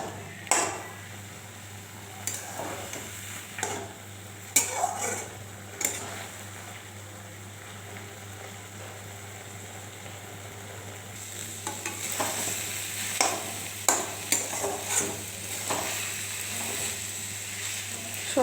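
Leafy greens are stirred in a pan with chili and mustard paste, giving a soft sizzle and intermittent spatula knocks and scrapes in bursts, with a quieter pause midway before the clattering picks up again.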